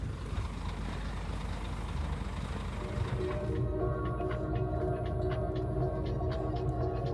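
A truck engine idles nearby with a steady low rumble, joined partway through by a thin high whine and faint intermittent clicks, with no talking.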